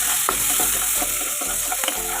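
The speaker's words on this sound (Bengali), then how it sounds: "সব কিছু ভালো করে ভেজে নেবো।" Black cumin seeds, green and dried chillies and ginger frying in oil as tempering for a thin fish curry, a dense, loud, continuous sizzle with soft stirring knocks underneath.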